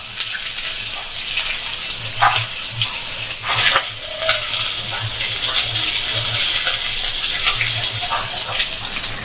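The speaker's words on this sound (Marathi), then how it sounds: "मासे तळायला तसा फारसा वेळ सुद्धा लागत नाही बघा" Gabholi fish, fresh monsoon catch, sizzle and crackle in hot oil in a pan, with a steady frying hiss broken by scattered pops and light clatter close by.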